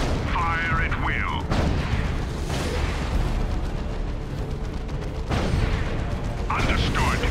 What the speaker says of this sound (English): Gunner, fire at will.